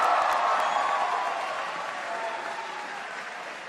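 A crowd gives Senator Bernie Sanders a round of applause at a free-tuition announcement event, a dense wash of clapping that starts full and gradually fades.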